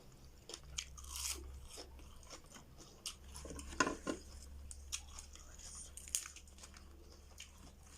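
Crunchy, spicy green papaya salad (som tam) being chewed up close, with irregular crisp crunches and bites scattered through a quiet indoor setting, occasionally under faint background speech.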